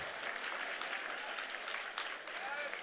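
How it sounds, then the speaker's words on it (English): A large audience applauds steadily at a 50th anniversary gala honoring a long-serving leader, a dense, even wash of many hands clapping for the full few seconds without pause. "let's give Kwang Kim another round of applause"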